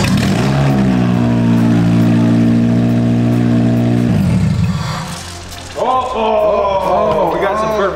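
A car engine without an exhaust manifold runs with a steady, loud, droning hum for about four seconds, then drops away as a person starts talking.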